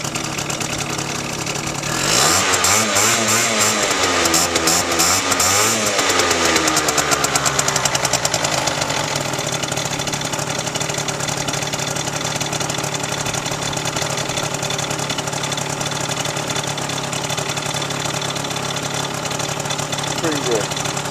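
A Peugeot Speedfight 3 scooter with a LeoVince Touring exhaust starts up after a couple of seconds of quiet and idles with a steady, buzzy two-stroke burble, loud and close, with speech faintly underneath.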